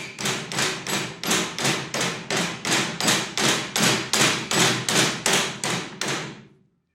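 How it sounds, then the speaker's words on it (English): Steady series of about sixteen evenly spaced taps, fairly loud and close, as a pistol grip is knocked out of the receiver cap of a WW2 machine gun during restoration; no speech. "the pistol grip fits snugly into the receiver cap, and I'm going to gently tap it out"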